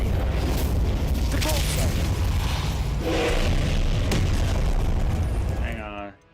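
The Incendio fire spell cast in Hogwarts Legacy roars as a loud, continuous fiery blast with booming bursts, then cuts off abruptly near the end.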